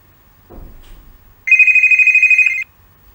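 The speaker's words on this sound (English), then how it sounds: "her phone's going to ring like we've just added in the new sound" A phone ringtone added as a sound effect in an Episode Interactive story plays as a steady pulsing electronic trill lasting about a second, loud and alone after a soft thump.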